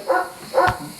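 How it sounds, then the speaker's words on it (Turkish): A dog barks twice, near and fairly loud, outside a wooded bungalow holiday house in the countryside, with quiet pauses between the barks. "köpeğin, Köpeğin sesi var."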